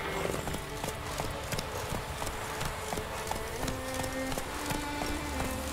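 Roach the horse gallops in The Witcher 3: Wild Hunt, with a steady, fast clip-clop of hooves that runs the whole stretch over a busy game soundscape, and a brief voice sits faintly underneath.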